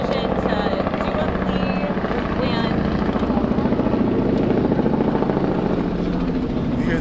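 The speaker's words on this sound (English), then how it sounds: "You hear the news chopper above?" News helicopter flying overhead: a loud, continuous rotor thrum with rapid, even chopping pulses, holding steady for several seconds while people talk over it.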